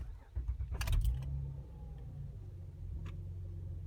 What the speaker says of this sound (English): Let's restart the car.